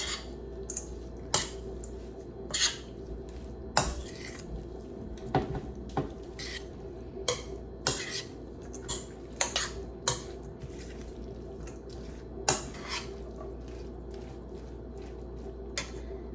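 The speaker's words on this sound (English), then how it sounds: "Now I'm just gonna mix it up." A utensil clinks and scrapes against a bowl while a plant-based lunch is mixed, giving a series of sharp, irregular metallic taps over a low steady background hum, close and without talk.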